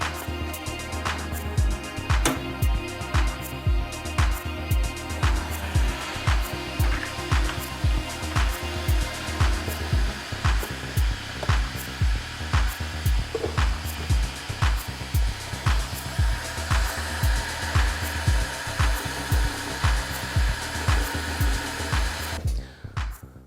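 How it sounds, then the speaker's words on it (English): A belt grinder shaping knife handles gives a steady, loud motorized whine, with regular pulses as the piece is pressed and lifted against the belt. It runs close and continuous, with no talking, then cuts off abruptly near the end. "while I'm messing about shaping those handles up on the grinder"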